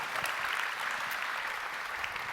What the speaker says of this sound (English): Everybody give a round of applause to Shan,